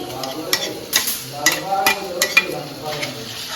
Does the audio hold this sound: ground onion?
yes